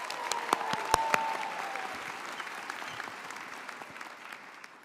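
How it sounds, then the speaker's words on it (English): Graduates and guests at a School of Public Health commencement ceremony give a sustained round of applause for the class of 2025, a broad even clapping wash with a few sharp claps standing out near the start before it gradually eases. "Give it yourselves one more round of applause."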